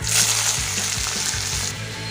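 Cumin seeds spluttering in hot oil with onion and curry leaves, a dense bright sizzle under a repeating low rhythmic thump, close and fairly loud, with no talking.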